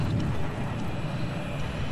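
A jet aircraft in the Battlefield 3 multiplayer game, its low continuous engine roar and rumble steady throughout, moderately loud with no voices over it.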